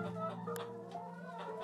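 Hens and a rooster clucking in the farm game The Girl of Glass: A Summer Bird's Tale, a steady stream of close, overlapping clucks with a brief sharp squawk partway through.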